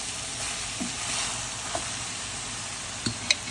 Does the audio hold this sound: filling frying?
yes